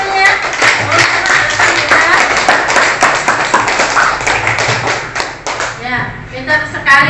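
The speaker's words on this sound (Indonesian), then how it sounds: "Berikan tepuk tangan untuk kita semuanya." Classroom audience clapping hands during an Indonesian school lesson on environmental conservation, a dense run of claps over steady murmur and voices, loud and close for most of the stretch before thinning out near the end.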